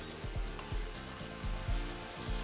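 Kimchi, fermented white cabbage, fries in a pan with ham, a steady close sizzle with a regular thumping, scraping rhythm from stirring underneath.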